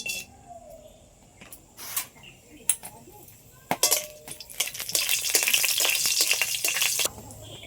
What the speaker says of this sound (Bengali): সাদা তেল তেলের ওপরে দিয়ে দিচ্ছি এলাচ লবঙ্গ আর দারচিনি